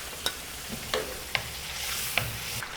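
Fish fries in hot oil in a home kitchen, a steady sizzle punctuated by several sharp clinks and scrapes of stirring or turning, close and moderately quiet.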